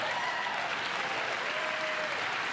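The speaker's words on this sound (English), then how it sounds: "I find this so annoying that they keep getting up and applauding" Dense, even applause from a large audience during a political speech, a continuous wash of clapping with no pauses or voices breaking through.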